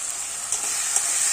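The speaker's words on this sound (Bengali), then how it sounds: "টমেটো কুচি দিয়ে জাস্ট একটু জল দিয়ে ভালো করে এখন মশলাটা কষতে হবে" Spice paste with chopped tomato and a splash of water sizzles in a pan while being sautéed, a steady close bright hiss with small crackles and stirring scrapes, no speech.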